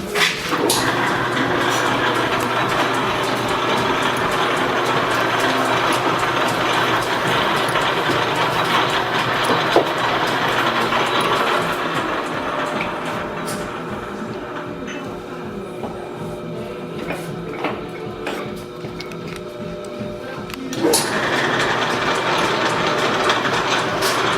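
A lathe runs while being driven by a second lathe, a continuous loud mechanical whirring and rattling with gear clatter that holds steady throughout, briefly easing then returning.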